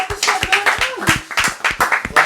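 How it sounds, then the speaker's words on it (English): A round of applause for a friend at a casual hangout: steady clapping from a small group of hands, close and lively, with voices chatting over it throughout. "Round of applause for my nigga, man."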